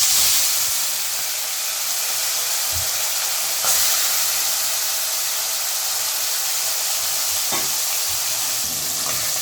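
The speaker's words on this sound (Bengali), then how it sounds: "মোরলা মাছ ভাজা হতে কিন্তু একটু সময় লাগবে" Small morola fish sliding into smoking-hot oil give a dense, even, close hiss of frying that holds steady throughout, with only a few faint clicks and knocks and no voices.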